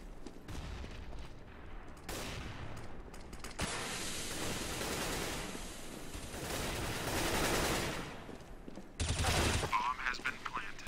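Bursts of gunfire and rapid automatic fire ring out in a tactical shooter video game, as teammates push onto a bomb site; loud, dense volleys come in clusters, with game voices in between.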